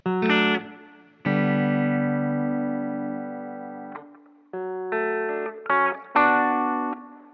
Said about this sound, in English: it gives you that like ham radio intro to a song lo-fi sound